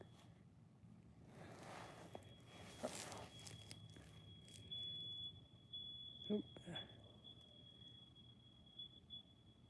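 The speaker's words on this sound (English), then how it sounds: "Fire alarm." A thin, high-pitched fire alarm tone drones steadily in the background, fairly faint, while occasional thumps and handling noises come and go.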